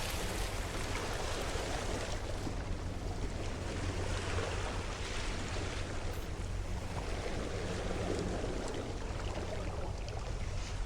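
Ocean waves in No Man's Sky make a continuous broad wash of surf and wind-like rumble, steady and fairly loud, with no voices.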